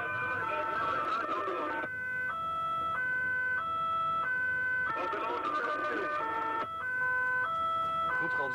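A two-tone Dutch ambulance siren alternating steadily between high and low pitches on the road, loud and close, with traffic and some voice-like noise underneath.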